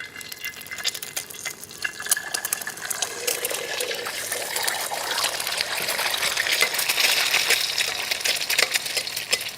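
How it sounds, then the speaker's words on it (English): An egg deep-frying in hot oil for Indonesian nasi goreng, with oil splashed over its top, giving a steady loud sizzle and crackle that thickens slightly over time with no talk. "they keep splashing oil onto it to cook it from the top"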